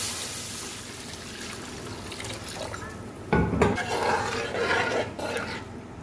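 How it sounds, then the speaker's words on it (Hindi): Water being poured into a cooking pot while making chicken tikka pulao, a soft splashing stream with a sharper burst partway through and light clatter of kitchenware, heard close up without talk. "दो गिलास पानी मैं इसके अंदर ऐड करूँगी।"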